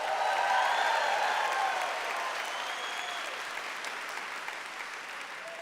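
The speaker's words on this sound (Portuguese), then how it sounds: "uma salva de palmas para Jesus" A church audience gives a sustained round of applause for Jesus, the dense clapping loud at first and easing slightly as it continues, with cheers and voices mixed into the crowd.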